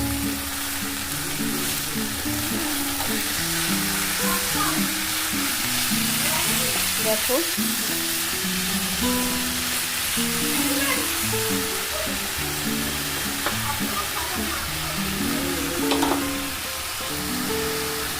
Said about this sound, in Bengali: এটা ভাজা হোক আর এটা আমি শাকটা নাড়াচাড়া করি